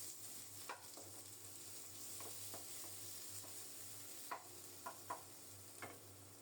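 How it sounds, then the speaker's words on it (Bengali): A large chopped onion fries in hot mustard oil, with a soft, even sizzle running throughout. Occasional light clicks and scrapes of stirring sound against it, quiet and close, with no voices. "সরিষার তেল গরম হলে বড় সাইজের একটা পেঁয়াজ কুচিয়ে দিয়ে দিলাম। পেঁয়াজটাকে একটু বাদামি করে ভেজে নেব।"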